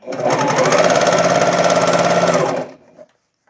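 Sewing machine stitching top and bottom layers of woven fabric for a dress, a fast steady motorized whir with rapid needle clatter for about two and a half seconds, then stopping with a faint click.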